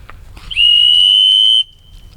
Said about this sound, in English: Let's test the whistle out right now though.